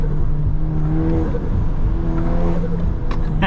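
Stage 3 tuned VW MK8 Golf R under hard throttle, heard from inside the car: a loud, rising and falling engine and turbo whir with a brief sharp burst near the end.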